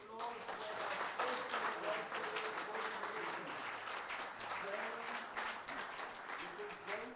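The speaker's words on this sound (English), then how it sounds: "Give a big round of applause for our" An audience at a Zen Kaizen fifth anniversary event applauds, a dense sustained wash of many hands clapping at a steady level, with voices mixed in beneath it.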